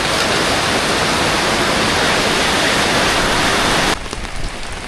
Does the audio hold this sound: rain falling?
yes